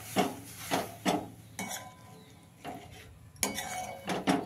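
Cooked lentils are stirred into a pot with a tempering, giving intermittent metal spoon scrapes and clinks against the pot in several quiet bursts over a faint background.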